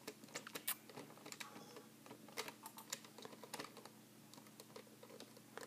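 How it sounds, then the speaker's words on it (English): Rapid, irregular keystrokes on a computer keyboard clatter close by, steady clicking with a few louder taps, over a low constant hum from the room. "Something tells me you're typing something?"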